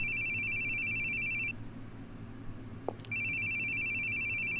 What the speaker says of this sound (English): I hate hearing phone ring.